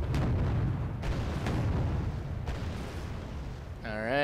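Heavy artillery booms in the Wargame: AirLand Battle strategy game, with a few deep impacts over a low, continuous rumble. A short electronic warble follows at the end.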